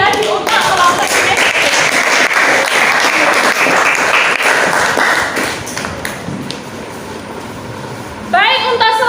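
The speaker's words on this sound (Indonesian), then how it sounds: "Tepuk tangan sekali lagi untuk kelompok ini" An audience in a classroom applauds a group returning to their seats, loud sustained clapping that thins out toward the end before a voice begins speaking.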